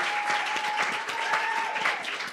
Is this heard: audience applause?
yes